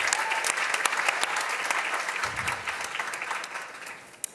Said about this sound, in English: Can I have a round of applause, please, for Josephine?